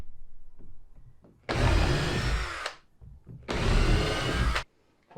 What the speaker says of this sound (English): I'm just going to drill a couple of holes in every other one, countersink them